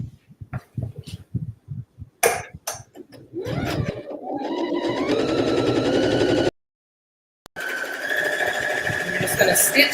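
Sewing machine stitching through a layered quilt and foam, its motor whirring in steady runs that start, stop for a moment and resume, with a person talking over the first seconds.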